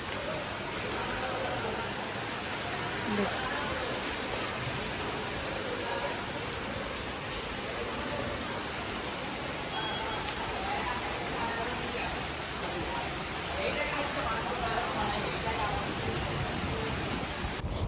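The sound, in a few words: heavy rain falling outside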